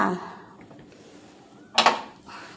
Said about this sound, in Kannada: ಬಾಣಲಿ ಇಟ್ಟಿದ್ದೀನಿ.